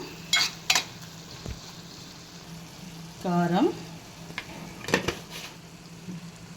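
Ridge gourd pieces soften in a pan for an egg curry, with a low, steady sizzle broken by a few sharp clinks of a utensil against the pan.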